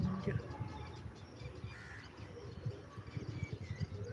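Pigeons cooing faintly in low soft bursts, with a few brief chirps and some wing flutter, quiet outdoor background.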